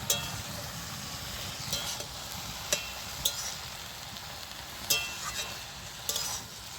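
Red amaranth greens cook in fish oil with a soft, low sizzle while a utensil stirs them, with scattered metallic clinks and scrapes against the pan.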